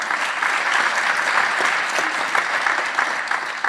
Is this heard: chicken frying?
no